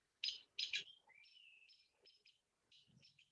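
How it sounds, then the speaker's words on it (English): A hairy woodpecker calls with sharp, high chirps in a quick burst, followed by softer thin call notes, faint and close-sounding against a quiet background with no talking. "he wants to help me find the hairy woodpecker because I can hear him"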